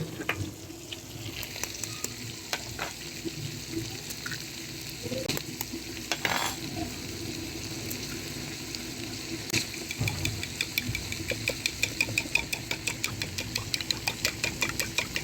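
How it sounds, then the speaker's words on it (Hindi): Okra and onion fry steadily in a pan, a constant loud sizzle with occasional stirring scrapes, and a faint pulsing hum runs underneath. "इधर हमारे प्याज और भिंडियाँ फ्राई हो रही हैं।"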